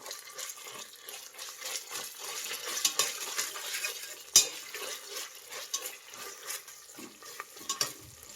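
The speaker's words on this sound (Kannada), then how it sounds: "ಇದು ಹಸಿ ವಾಸನೆ ಹೋಗೋವರೆಗೂ ಫ್ರೈ ಮಾಡಿ." Ginger garlic paste fries with onions in a pan for tomato pulao, a quiet steady sizzle broken by light stirring scrapes and occasional utensil clinks, with no voices.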